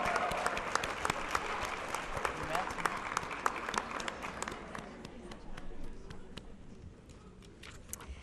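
Applause at the 2013 Lockheed Martin Science Fair honors high school winners. Brisk, crisp clapping runs for about five seconds, then thins to scattered, fading claps.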